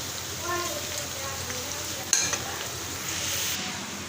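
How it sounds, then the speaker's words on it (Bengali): Oil sizzles softly in a wok as a bay leaf fries and gets stirred, a faint steady crackle with a sharp clink of the spatula midway. "ভাজা ভাজা করে নিব সাথে একটা তেজপাতা দিয়ে দিচ্ছি"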